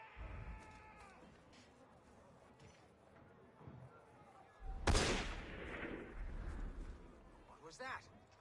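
A sharp, loud gunshot cracks out midway and echoes, amid faint game-like background noise and a brief tonal sound at the start, in the video game Assassin's Creed: Unity.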